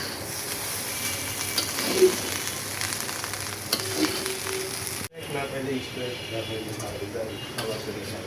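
Rice with scrambled egg fries in a pan with a steady sizzle and occasional scraping as it is stirred, continuing after a brief cut, with talk faintly in the background.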